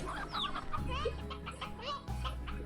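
Hens cluck in the video game Slime Rancher, short pecking calls bursting out over a steady low hum of game sound, while a voice talks over them throughout.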